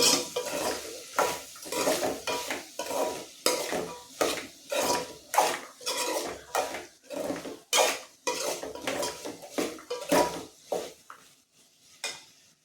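A spoon stirring and scraping vegetables with spice powders as they sauté in a pan for vegetable biryani: steady, rhythmic metallic strokes over a light sizzle, close and alone.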